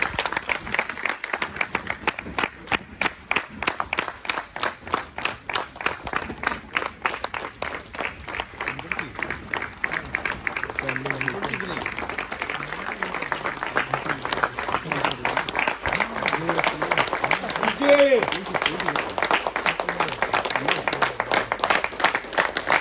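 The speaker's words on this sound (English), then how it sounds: "Let's have a huge round of applause for them." Loud, sustained audience applause fills a university hall at an inspiring session during Basant 2025 at IIT ISM Dhanbad, with dense continuous clapping throughout and some crowd noise beneath.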